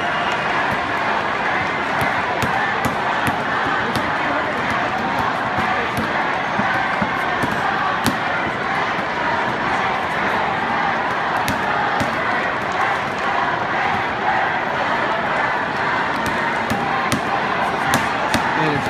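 A big baseball crowd at a Dodgers versus Rangers game in San Antonio roars continuously, with rhythmic rival chants trading back and forth through a dense, loud wash of voices.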